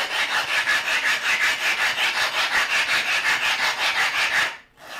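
A coarse 400-grit sharpening stone scrubs back and forth across a grooved glass lapping plate in quick, steady, rasping strokes, loud and close, then stops abruptly near the end.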